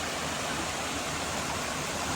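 A mountain creek in the Pisgah Ranger District, North Carolina, rushes with a steady, dense broadband wash of flowing water, constant and close, with no other sounds.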